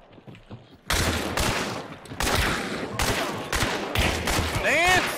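Bursts of gunfire ring out in the pirate video game Sea of Thieves, loud and repeated in rapid volleys across several seconds, with players talking over the shots.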